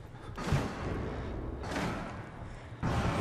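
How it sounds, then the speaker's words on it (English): A door being broken down in the horror game Outlast: three heavy thumping crashes about a second apart, loud and close, each followed by a brief rumbling tail. "Oh, he broke down the door."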